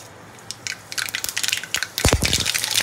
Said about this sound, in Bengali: এবার সর্ষেটা দিয়ে দেবো